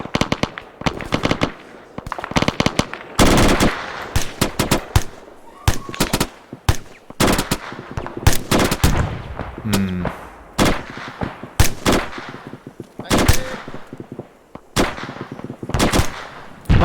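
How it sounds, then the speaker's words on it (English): Bursts of rifle fire in the video game ArmA 3, rapid volleys and single cracks scattered through a platoon attack, some close and loud, others more distant, with brief pauses between exchanges. "Connolly's facing Blakeway, so she's firing rounds at Blakeway"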